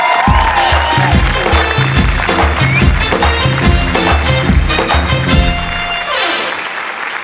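A studio audience on a Marathi comedy show applauds loudly for the winning team, with steady clapping and crowd noise running over upbeat rhythmic music for about seven seconds before easing slightly.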